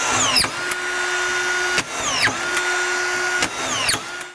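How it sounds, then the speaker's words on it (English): A DeWalt cordless drill drives screws in several close, loud bursts, its motor whining up and down in pitch between short pauses. "so we're driving the screws in, we need to go forward"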